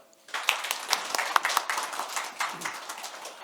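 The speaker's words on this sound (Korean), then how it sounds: "다시 한번 박수 부탁드리겠습니다" A conference audience in a hall applauds with dense clapping that swells quickly, holds steady for a few seconds and then starts to thin.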